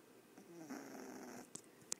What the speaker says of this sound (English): My little pug, I don't know if you guys can hear him snoring over here.